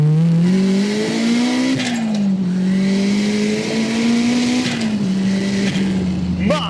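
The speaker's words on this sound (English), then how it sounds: "Let me give you one final taste of the turbocharged Elise." A turbocharged Lotus Elise with about 320 wheel horsepower accelerates hard, its loud engine note climbing and dipping through gear changes, with a brief tire chirp near the end.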